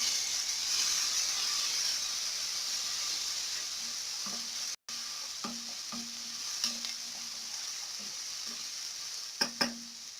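Garlic tipped into onions already frying to light brown in a pan for fish curry, giving a steady soft sizzle with a few stirring scrapes and knocks near the end.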